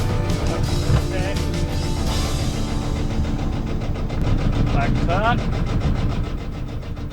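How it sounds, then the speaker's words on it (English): A boat's tractor engine runs steadily and loud throughout, a dense mechanical drone in remote Alaskan waters, while voices call back and forth over it. "yelling back and forth over our tractor engine"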